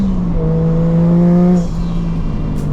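A Toyota JZX100 Chaser drift car holds a loud, steady engine drone close by, then the pitch drops away as the revs fall.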